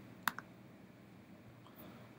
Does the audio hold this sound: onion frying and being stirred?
no